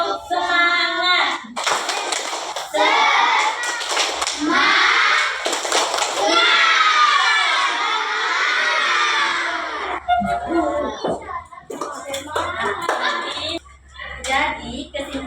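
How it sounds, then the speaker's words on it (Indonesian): Schoolchildren in a classroom doing a rhythmic spirit clap, short bursts of group clapping with children's voices chanting and talking between and over the claps. "tepuk semangat."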